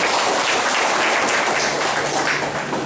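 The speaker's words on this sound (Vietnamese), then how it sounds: "chúng ta cho một tràng pháo tay mạnh mẽ lên" A Vietnamese Catholic congregation gives a strong round of applause during a priest's service, a loud, close, dense roar of clapping that holds steady and eases slightly at the end.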